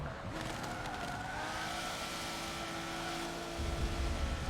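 Forza Motorsport 7 race car engines drone steadily with shifting harmonic tones throughout, then a rougher, louder surge near the end, without talk over them.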